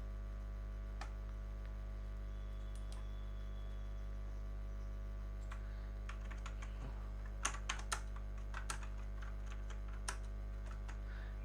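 Typing on a computer keyboard in a quiet room with a steady electrical hum, scattered keystrokes that come in short bursts and grow sharper toward the middle, with no talking.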